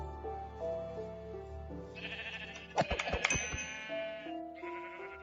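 Sheep in the Minecraft-based game Hungry World bleat in drawn-out, wavering calls over a quiet tonal backdrop, with a cluster of sharp hit sounds in the middle before the bleating resumes.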